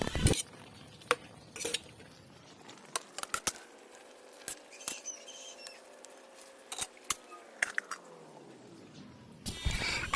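Sautéed bottle gourd stirred in a pot and then covered, with scattered close scraping clinks of a utensil on metal, a quiet stretch of low hum, and a final louder clatter of the lid, no speech.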